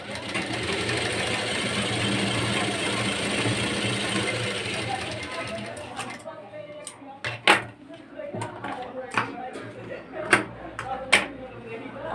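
An electric sewing machine stitches a lined blouse, giving a continuous close whirring run for about six seconds before stopping, followed by scattered clicks and handling noises while someone talks.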